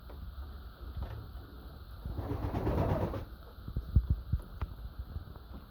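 Hungarian frosted flying pigeons in a loft, with soft low cooing and fluttering, shuffling sounds up close, plus a few sharp knocks and a faint steady background whine.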